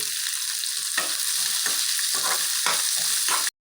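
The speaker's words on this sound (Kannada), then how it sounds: "ಹಸಿಮೆಣಸಿನ್ಕಾಯಿ ಹಾಕ್ಕೊಂಡು ಫ್ರೈ ಮಾಡ್ಕೊಳ್ಳಿ" Green chillies, onion and cashews fry in a pan with a loud, dense sizzle, broken by the repeated scrape and clatter of stirring, close up and continuous with no talking.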